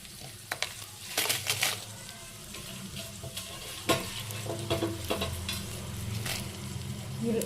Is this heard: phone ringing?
no